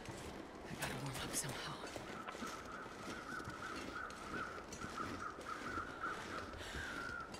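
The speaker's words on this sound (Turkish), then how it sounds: "Kargalar sağ tarafta." Crows caw several times at mid distance in a wilderness scene of the survival video game The Long Dark, under a soft whispering voice and a faint wind hiss.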